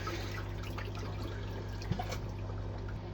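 Water rushes steadily through a koi pond filter drain during a purge flush, a continuous low trickling wash with no voices over it.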